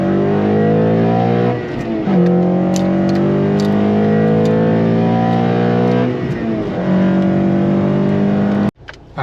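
A 9th-generation Honda Civic Si fitted with a cold air intake accelerates hard in first gear, heard from inside the car as a loud, rising engine note that climbs twice with a brief dip at a shift point, then cuts off abruptly.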